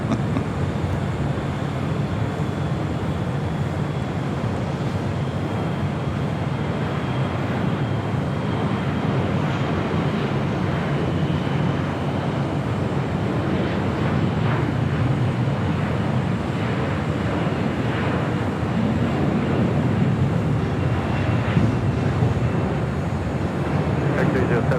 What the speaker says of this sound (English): That was the Delta flight coming in from Salt Lake City.